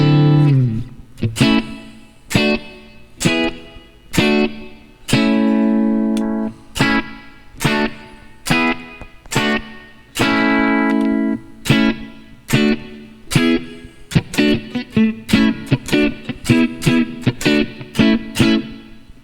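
An electric guitar on its neck pickup, played through distortion, rings out in a string of struck chords and single notes, each attack sharp and sustaining, some held long, others choppy, loud and close with no talking.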